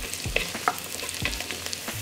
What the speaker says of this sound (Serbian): Luk se propržio i dodajem šargarepu i pržim sve zajedno još 2 minuta.